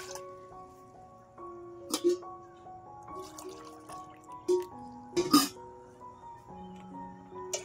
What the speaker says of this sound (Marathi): या कपाने मी 2 कप पाणी टाकून घेणार आहे।